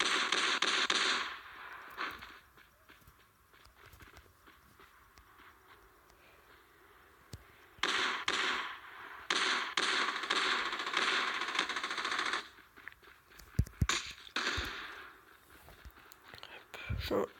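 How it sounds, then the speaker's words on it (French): Gunfire in the mobile battle game Rules of Survival comes as quiet sharp cracks, with a cluster of shots near the end, between bursts of hissy in-game noise and someone talking softly. "Ok, il me tire dessus, je l'ai vu."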